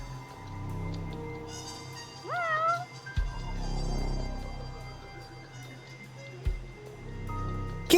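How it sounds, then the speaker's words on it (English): A cat meows in the Yakuza video game, a couple of clear rising, bending cries in the middle over a steady game soundscape with soft music and scattered effects. "That's no pigeon, that's a cat."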